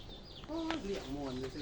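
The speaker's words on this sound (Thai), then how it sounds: "โอ้มีไก่ตีอีกเด้อพี่น้องแถวนี่พี่น้องไก่ตี" A fighting rooster clucks in a rural village setting, giving a few short, fairly close calls with falling pitch over a background of voices.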